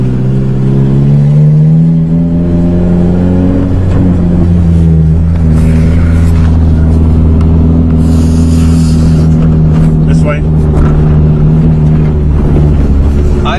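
Car with a 5-speed manual gearbox driven on a farm, its engine droning loud and close with pitch shifts as it accelerates and changes gear, plus some rattles and bumps inside the cabin.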